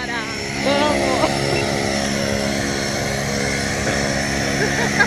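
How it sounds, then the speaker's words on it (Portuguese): Steady propeller engine drone of a skydiving airplane, loud and continuous throughout, with excited voices talking and shouting over it. "tá lá nosso avião"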